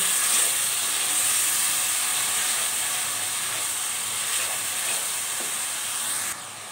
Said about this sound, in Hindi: लहसुन अदरक को भी सही से सौते करेंगे, यानी गोल्डन जो है ब्राउन कर लेंगे